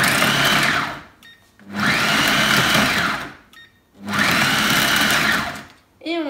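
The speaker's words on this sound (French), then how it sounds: "Et on va mixer le tout simplement. Donc on peut commencer par des pulses." A Cooking Chef food processor mixing chocolate spread in three loud whirring pulses of about a second and a half each, separated by short pauses.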